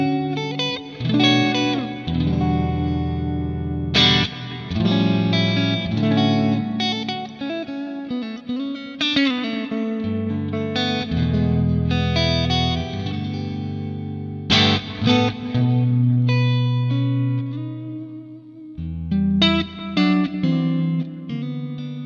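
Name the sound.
electric guitar with reverb and delay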